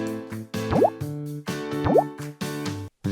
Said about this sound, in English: Bibo plays and splashes and makes bubble beards.